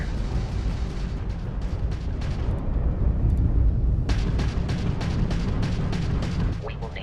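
Weapons fire and explosions from Crimson Fleet spaceship combat in the Starfield video game, a dense, continuous barrage of booms and bursts with sharp impacts cutting in around the midpoint, loud and sustained throughout, with a voice speaking over it.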